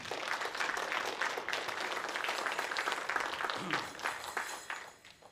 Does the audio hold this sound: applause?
yes